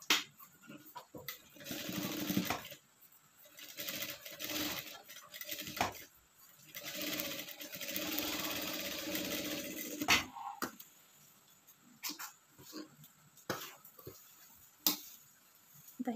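A sewing machine stitching the hook strip on a blouse, running in short bursts of rapid ticking separated by pauses, with occasional small clicks and handling noises.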